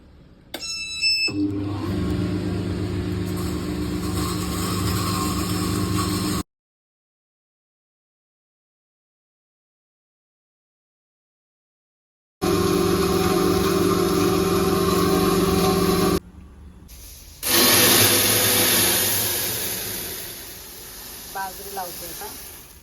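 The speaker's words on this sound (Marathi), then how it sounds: "आता चण्याची डाळ लावलेली मी ही चण्याची डाळ पण घरचीच आहे तर आता दळून घेते मी बारीक" An electric household grain mill grinds homemade chana dal into fine flour, making a loud, steady, high-pitched motor whine with a droning hum that runs in long stretches broken by sudden full silences.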